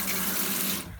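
Water gushes from the shower tap of a CaraOne 390QD motorhome, a close, loud steady hiss of running water that cuts off abruptly at the end.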